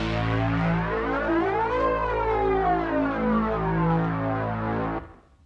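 An Oberheim synthesizer holds a low note while oscillator 2's pitch is swept by hand, giving a loud, continuous, siren-like rise and fall that ends abruptly after about five seconds.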